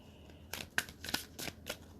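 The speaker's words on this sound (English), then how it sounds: "I'm going to shuffle my clarification deck." A tarot clarification deck is shuffled in a series of quick riffling bursts, about five crisp card flutters close to the listener, with no talking.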